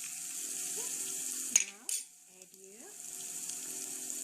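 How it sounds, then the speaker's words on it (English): Spices sizzle in hot oil in a pan, a steady soft frying hiss with a brief clatter and a sudden louder spit midway, with faint talk underneath. "It gives a very good flavor when you cook your spices in hot oil instead of directly adding to the gravy."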